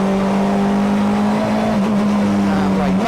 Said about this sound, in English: back down the 3rd, turn in late, squeeze the throttle